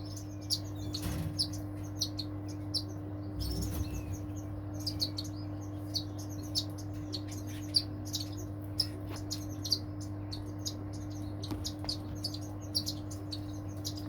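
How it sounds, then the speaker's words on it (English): A young fledgling silverbill chirps in short, high, faint peeps repeated irregularly throughout, over a steady low electrical hum, with a couple of soft thumps early on. "The little bird that's fledged is a silverbill, and it's a normal one"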